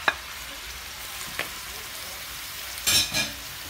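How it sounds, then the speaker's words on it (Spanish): Chopped cilantro is tipped into goat meat simmering in sauce in a pan, giving a steady soft sizzle with a few brief stirring scrapes, one at the start, one mid-clip and two close together near the end, with no talking. "Ahora le voy a agregar el cilantro."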